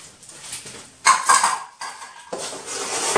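A saucepan being lifted away while plastic melts for homemade cups, giving a few close clanks and scrapes of metal cookware in two or three short bursts, with no talking.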